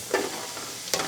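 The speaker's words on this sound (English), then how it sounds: "I'm now going to dump the rest of my mirepoix into the pan" Mirepoix of vegetables including unpeeled carrots dropped into a hot pan, a brief soft sizzle with faint stirring noise.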